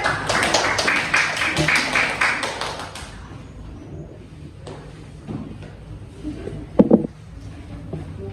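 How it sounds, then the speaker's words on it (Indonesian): Classroom applause for the second group of students: a dense burst of clapping for about three seconds, then it fades into a quiet room with a few scattered knocks. "Tepuk tangan untuk kelompok kedua."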